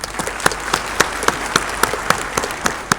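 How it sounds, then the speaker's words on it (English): An audience at a public talk applauds the speakers, a loud, full round of clapping with sharp individual claps standing out over the dense crowd sound for the whole stretch. "Please give them a resounding applause, please."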